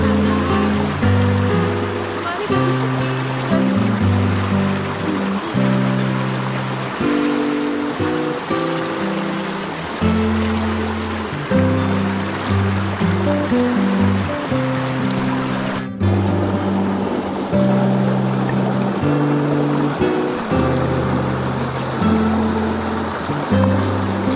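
Water rushes steadily along a hidden river in Gunungsari, Pati, a loud, continuous broadband flow with a low rhythmic pulsing underneath, heard close by with no voices.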